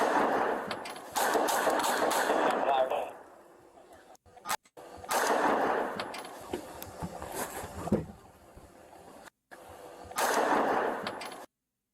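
Gunfire from rooftop snipers crackles in several dense rapid bursts, separated by quieter gaps with a few isolated single shots, loud and somewhat distant, over a steady background hum.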